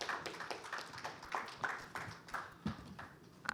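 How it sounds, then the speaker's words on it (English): Scattered audience clapping at a corporate fireside chat on white collar crime, a sparse, uneven patter of hands at moderate distance with irregular sharp claps, rather than dense sustained applause. "Please have a huge round of applause, everyone."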